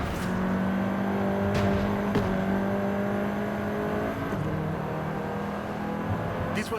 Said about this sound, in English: This version is the Volkswagen Golf R,